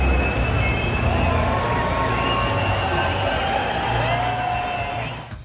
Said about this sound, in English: Wait, people are starting to cheer.